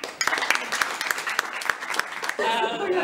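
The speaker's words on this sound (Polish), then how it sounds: "Gorące brawa." At a company anniversary event, a crowd claps warmly, with scattered distinct hand claps popping out of a steady applause bed before the clapping swells into a denser, fuller burst toward the end.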